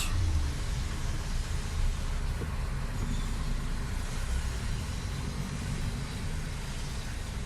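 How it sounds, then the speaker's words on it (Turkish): A car squeezes past on a narrow, rough road, heard as a steady close rumble of engine and road noise with no voices. "Geç usta geç arabanın arkası takılmasın size şimdi."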